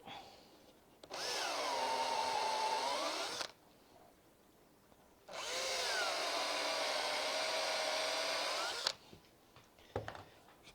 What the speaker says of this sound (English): And I'll now pre-drill the other two.